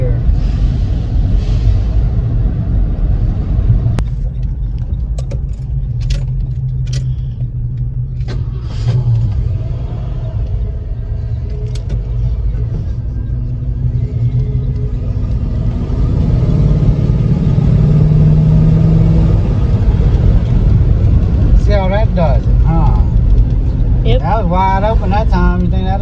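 A $100 Ford F-150 truck engine idling, a steady low rumbling drone close by with occasional clicks and knocks, while people talk over it at times.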